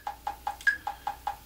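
Time Guru metronome app clicking very fast at 300 beats per minute, seven crisp evenly spaced electronic ticks with one higher-pitched accented beat, close and clear against silence.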